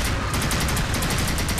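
Enemy gunfire in the NecroVisioN video game crackles in a dense, continuous burst of rapid shots, loud and unbroken for the whole stretch with no voice over it.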